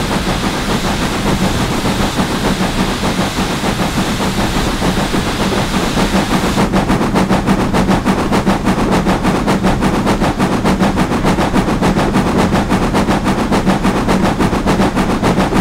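A working steam locomotive chuffs from its chimney with a fast, steady exhaust beat over a constant rushing roar, and the beats tighten into a quicker rhythm partway through.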